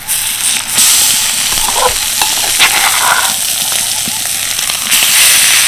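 Spiced mashed potato and cauliflower being stirred together in a pan for vegetarian cauliflower chops, giving a steady, loud, scraping, sizzling mix throughout with no talk.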